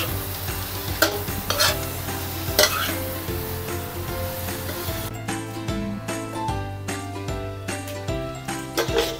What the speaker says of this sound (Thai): ใส่พริกลงไปค่ะใส่มะกรูดค่ะมะกรูดฉีกนี่ผัดให้เข้ากันหอมมาก